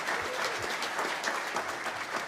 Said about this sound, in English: Round of applause for Dallin.